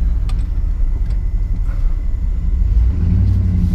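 A vehicle backing out of a storm-damaged Iowa field after a derecho, its engine a loud continuous rumble close by, swelling slightly toward the end.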